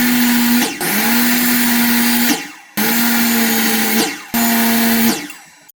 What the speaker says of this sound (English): here I'm going to use the chop saw set up with a stop block to go ahead and make all 4 legs exactly the same